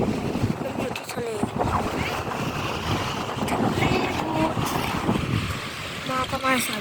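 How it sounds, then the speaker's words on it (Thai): Seaside wind and waves at Cha-am beach in Thailand: steady, blustery wind rumble and wash of surf buffet the microphone, with a voice talking intermittently over the noise. "มาอยู่ที่ทะเล"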